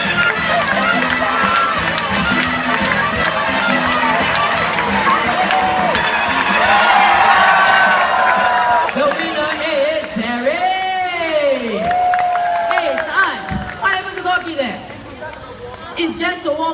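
Supporters at a Jurong Bird Park show in Singapore cheer and shout loudly for competing birds, a dense excited crowd roar with whoops and yells that later thins into scattered voices and animated talk.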